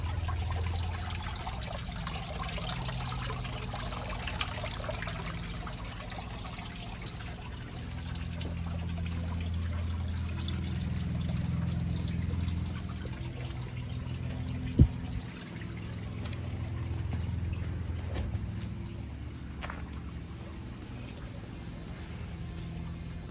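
Water trickles steadily into a backyard fish pond built from an old Chevrolet S10 pickup, a continuous soft splashing and dribbling that holds an even level throughout with one brief knock partway through.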